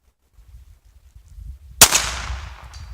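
A Ruger Standard .22lr pistol fires a single sharp crack outdoors at a target range, shooting at 200 yards. A short ringing tail and light wind or handling noise follow, with quiet rustle before the shot.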